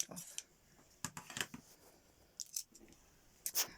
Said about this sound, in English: to cut the thread off.